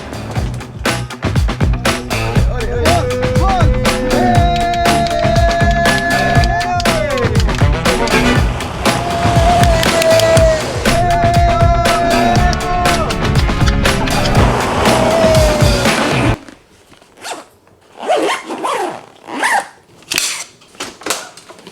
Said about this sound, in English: We're driving around the lot, dude!